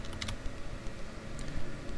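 Quick clicks of someone typing on a computer keyboard, a close, quiet run of key taps with uneven rhythm and no voices.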